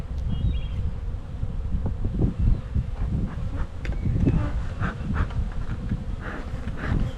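Honey bees buzzing steadily around an opened, fast-growing hive, a dense low drone with occasional louder passes near the microphone and some wind rustle, no one speaking.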